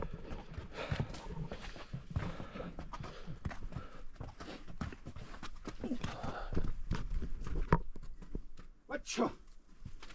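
Donkeys walking up a trail near Quilotoa in Ecuador, hooves clip-clopping in an irregular rhythm, fairly faint and close, mixed with footsteps and breathing, with a person talking at times.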